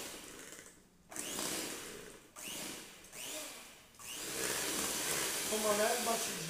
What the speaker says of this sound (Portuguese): Eu venho só com o pulsar da batedeira